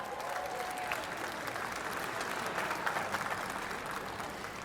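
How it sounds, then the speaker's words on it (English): A crowd at a Fourth of July celebration at the National Archives applauds in a sustained, even wash of clapping, moderately loud with no speech over it. "yes, applause."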